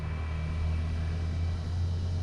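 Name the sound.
road traffic near the Chocolate Hills, Bohol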